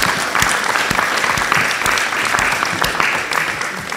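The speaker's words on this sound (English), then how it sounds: "Let's give Nadine and Bharati and Mara a round of applause." Loud sustained applause from an audience at a general assembly, dense clapping filling the whole stretch without letting up.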